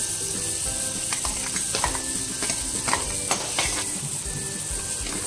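Garlic and onion fry in butter in a pan for Masala Maggi, giving a loud, steady sizzle with occasional scraping stirs.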